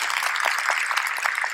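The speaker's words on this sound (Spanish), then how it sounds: "para quienes pido un fuerte aplauso" An audience applauds loudly and continuously for military members, a dense wash of clapping with no pause.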